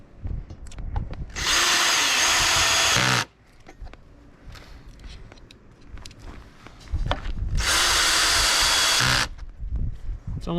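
Power drill driving screws into a tabletop while laying model railway track, two loud sustained whirring bursts of about two seconds each, separated by quieter handling noise and faint talk.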